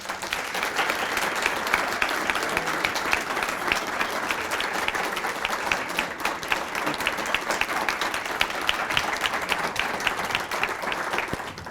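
Sustained applause from an awards ceremony audience, dense steady clapping throughout at moderate distance with no voices over it.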